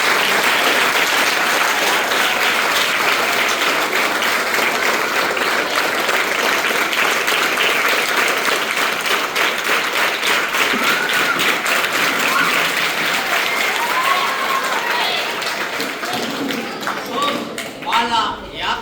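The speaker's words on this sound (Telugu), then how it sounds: "దానికోసం వాళ్ళని స్వాగతం పలుకుతూ అందరూ ఒకసారి క్లాప్స్ కొడితే బాగుంటుంది." A school audience claps in welcome, with dense, sustained applause filling the space from start to finish and easing slightly near the end.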